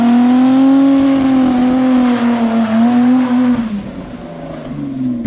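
A car engine revs loudly and steadily, its pitch rising and falling before easing off and picking back up near the end, close by and with no talk over it.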